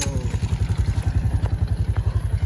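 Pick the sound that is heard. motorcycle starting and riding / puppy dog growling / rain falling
motorcycle starting and riding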